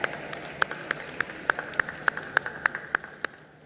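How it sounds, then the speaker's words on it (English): Audience applause at the closing ceremony of the 53rd International Film Festival of India for a festival winner: a run of sharp, evenly spaced claps stands out over a steady background hum, sounding rhythmic rather than like a full crowd. "A round of applause, ladies and gentlemen."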